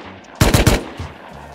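Rapid burst of three loud, close gunshots in a video game, firing in quick succession, followed by a couple of fainter thuds and quiet background sound.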